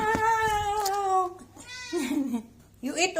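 A cat named Tim meows at close range, a long drawn-out cry followed by two shorter, lower meows, with a person's voice talking nearby.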